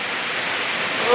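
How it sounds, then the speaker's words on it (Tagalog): Heavy rain pours steadily in a dense, unbroken hiss that grows slightly louder at the end. "Ayan guys, nagkusog ang ulan."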